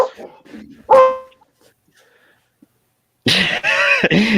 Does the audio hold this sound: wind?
no